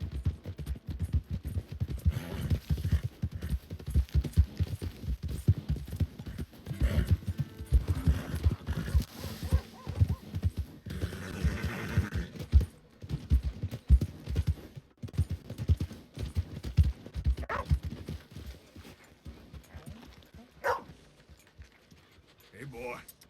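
Steady clip-clop of horse hooves in Red Dead video game, a rhythmic walking gait heard close and continuous, with occasional faint other game sounds.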